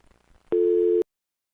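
Telephone dial tone, a single steady electronic tone held for about half a second, loud and clean, ending abruptly into silence.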